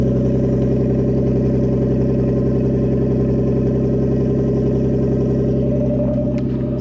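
A Nissan Skyline R34 with an RB25 Neo turbo engine idles steadily with no exhaust fitted, only a downpipe, giving a loud, close, even drone with a raspy pulsing character that holds constant throughout.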